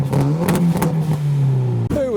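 Car engine revving at a car meet, a loud, close, rising and falling drone of an engine under throttle with a few sharp popping bursts through it, ending in a quick rev near the end.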